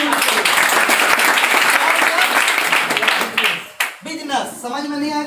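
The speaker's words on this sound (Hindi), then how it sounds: "जोरदार ताली होनी चाहिए।" A seated audience at a business talk breaks into loud, dense clapping that fills several seconds, then fades as a voice starts speaking.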